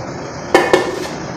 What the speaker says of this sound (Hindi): मिक्स करते हैं जी इसको।